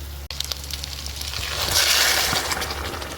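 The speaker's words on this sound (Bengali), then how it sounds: "তরকারির ঝোল ফুটে গেছে" Curry gravy boils in a pan with a steady, close bubbling hiss that grows louder midway, with an occasional small knock and no talking.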